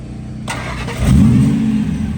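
A Ford truck's engine cranks and catches right after its fuel pump primes, firing up into a loud, close, steady idle that rumbles with a brief rise in revs.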